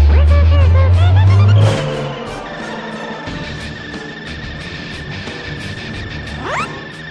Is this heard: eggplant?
no